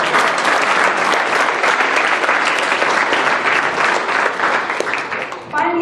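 Loud, sustained applause from an audience at a 2015 Babul Ilm scholarship event, honouring a young Quran reciter and translator; dense clapping fills the whole stretch and thins briefly at the very end.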